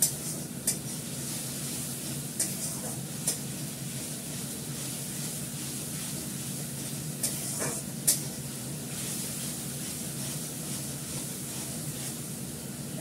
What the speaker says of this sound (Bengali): একটু তেল দিয়ে কষাচ্ছি, তেলটা একটু আস্তে আস্তে বেরিয়ে আসছে